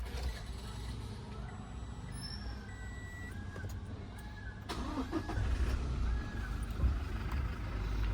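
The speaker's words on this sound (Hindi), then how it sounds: "वापस ये गाड़ी एक बार स्टार्ट करते हैं" A Toyota Innova Crysta 2.4 diesel cranks and starts, its engine catching and settling into a steady, fairly loud idle heard close by with no talking.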